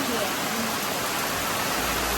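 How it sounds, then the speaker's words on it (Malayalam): Heavy monsoon rain pours down steadily outdoors, a dense, even hiss of falling water that fills the whole short stretch without pause or other sounds. "ഞങ്ങള് മഴ കാണാൻ വേണ്ടിട്ട് ഇറങ്ങിയതാണ്"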